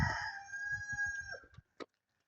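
A Barkovsky breed rooster crows once in a long, drawn-out call close by, with a few hen clucks under it before it cuts to near silence.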